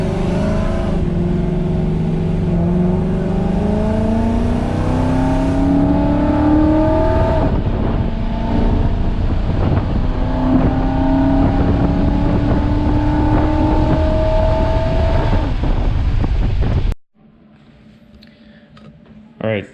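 A 2017 Mustang GT fitted with a Paxton supercharger revs and accelerates loudly from inside the car, with rising engine pitch climbing through repeated pulls and wind buffeting the microphone before the sound cuts off abruptly.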